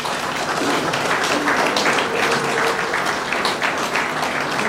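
At a signing ceremony, an audience applauds with steady, dense clapping that holds at the same level throughout.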